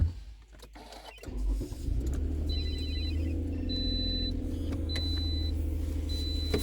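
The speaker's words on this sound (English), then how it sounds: "Turn on the engine." A car engine cranks briefly and catches, settling into a steady idle while an electronic chime beeps at regular intervals.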